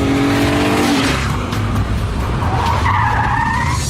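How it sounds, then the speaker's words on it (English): A car's tires squeal in a loud, sustained handbrake skid on an airfield while the engine drones beneath, a second shriek rising toward the end. "if any of our audience can handbrake a car to a mark"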